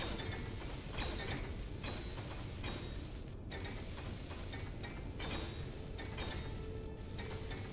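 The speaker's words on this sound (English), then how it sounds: "All right, turn off the welders." Welders building up blocks in the Space Engineers video game, a steady dense sizzling, crackling mechanical hiss running continuously at moderate level, broken by a few brief dips, with no talking.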